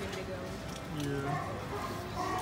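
Animals at a Sea World marine park give short, funny barking calls, repeating at close range over a steady wash of crowd chatter and outdoor noise.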